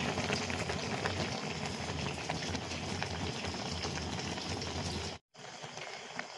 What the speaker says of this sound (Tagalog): Kumukulo na po yung ating pinaksiw.